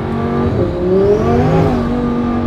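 Lamborghini engine revving up close, a loud rising and falling throaty exhaust note over a couple of seconds, with no talk.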